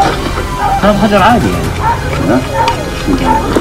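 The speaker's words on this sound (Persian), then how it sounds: "همین که خاک از روی قبر میزنن کنار، سر صدای سگا بلند میشه" Several dogs bark and yip in a noisy, echoing scene as earth is pulled off a grave, the calls overlapping with voices and general commotion throughout.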